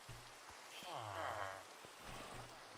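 Rain falling in Minecraft, a steady hiss of drops spread across the whole clip with a voice speaking over it partway through.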